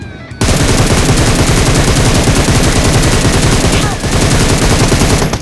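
Rapid, sustained automatic gunfire in PUBG Mobile, loud and close, with dense bursts running almost unbroken for several seconds and a brief dip near the end; faint voices sit underneath.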